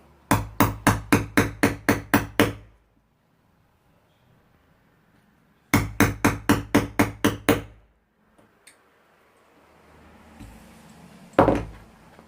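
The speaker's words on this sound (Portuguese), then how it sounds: "Fique à vontade, eu vou colocar aqui 2 rebites" A hammer strikes rivets into a thick leather A5 case in two rapid runs of about eight sharp, evenly spaced knocks, close and loud, separated by quiet handling noises and a final thud.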